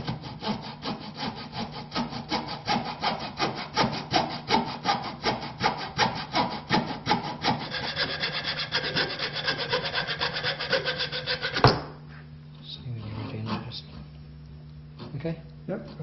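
Steady back-and-forth strokes of a hand saw cutting through wood clamped to a bench, rhythmic and close, ending abruptly, followed by someone talking quietly.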